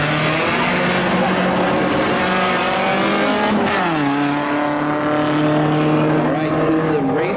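A Camaro drag racing car holds a loud, sustained engine rev, its droning harmonics steady and then dipping and climbing again midway, close and dominating throughout.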